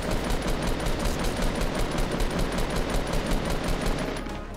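Rapid automatic gunfire in the video game Fortnite, a steady close burst of evenly spaced shots that runs continuously and fades slightly at the end.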